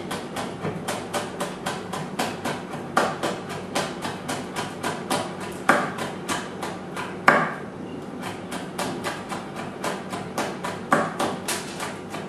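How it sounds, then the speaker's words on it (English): A knife chops green chilies into very small thin slices on a board, a quick, even run of close, crisp taps with a few heavier knocks, steady rhythm, with no talking. "chop very small pieces, very small thin slices in fact"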